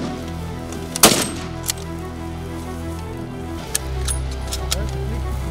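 A single loud rifle shot cracks out nearby during a safari hunt in open bush, followed by a few fainter clicks and a low rumble of wind or movement.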